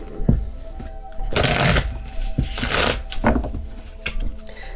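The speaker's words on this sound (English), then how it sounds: "I'm shuffling one because also to prove I can shuffle." A deck of tarot cards is shuffled by hand in close, loud riffling bursts and soft slaps that come in several waves, with no speech.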